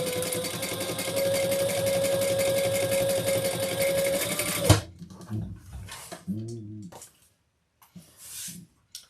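A sewing machine topstitches a bag pattern, running in a fast steady mechanical whir for several seconds before stopping, followed by a voice speaking briefly.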